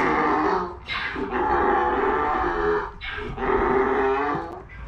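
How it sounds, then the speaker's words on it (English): A baby donkey at an animal rescue sanctuary in Paphos, Cyprus brays in several loud, close, groaning calls separated by short breaths, with no talk. "Baby donkey."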